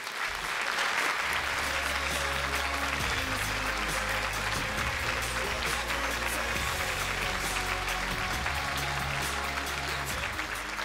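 A university lecture audience at the University of British Columbia applauds to welcome a guest speaker, sustained dense clapping from a large crowd lasting the whole stretch, even and loud with no break.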